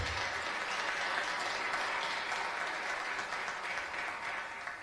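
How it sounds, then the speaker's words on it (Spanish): Steady, sustained audience applause fills a conference hall in Paraguay, a broad even roar of clapping hands that holds at constant strength throughout, with no talk over it. "Así que un aplauso para los senadores."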